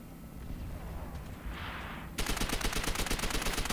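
Rapid gunfire from the video game World at War, a steady crackling burst that starts abruptly partway through and carries on loud to the end, after a quieter stretch of game ambience.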